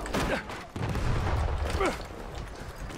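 Gunfire in the video game Battlefield 1: several loud, sharp shots and booms crack over a rumbling battlefield background within a few seconds, with a voice partly audible underneath.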